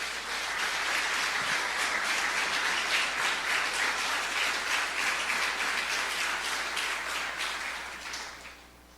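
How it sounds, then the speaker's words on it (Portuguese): A church congregation claps together in steady, sustained applause, evenly loud for several seconds before gradually fading away at the end. "Vamos aplaudir a Jesus por isso?"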